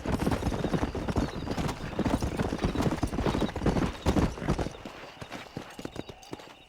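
Horse galloping in the video game Red Dead Redemption, a steady, fast run of loud hoofbeats close by for several seconds, easing off toward the end.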